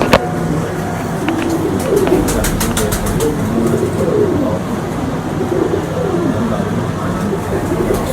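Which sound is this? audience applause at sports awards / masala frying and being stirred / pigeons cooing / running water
pigeons cooing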